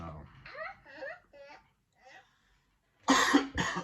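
A person speaks briefly, then a pause, followed by two loud, harsh coughs close up.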